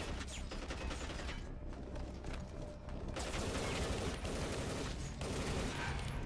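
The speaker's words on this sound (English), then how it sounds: "We're kicking open gates here." Gates are kicked open in a third-person shooter game, heard as dense mechanical creaks, clanks and rattling impacts amid gunfire-like bursts, loud and continuous across a few seconds with brief dips.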